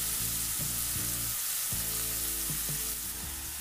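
Fresh dill (soya) fries over a high flame in a pan with coriander powder and turmeric, giving a continuous loud sizzle broken by periodic stirring scrapes and knocks, close up with no voices.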